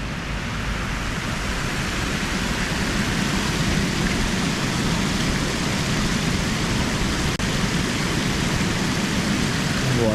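A waterfall near an old church in San Francisco's SoMa district gives off a steady, loud broadband rush of falling water, unbroken for the whole stretch with no voices over it.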